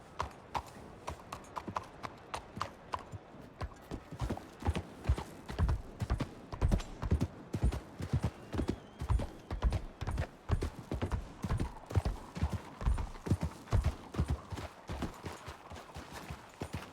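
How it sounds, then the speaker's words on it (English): Many horses' hooves clip-clop steadily in a video game, a dense run of hoofbeats with an occasional whinny, moderately loud throughout. "That's a lot of horses."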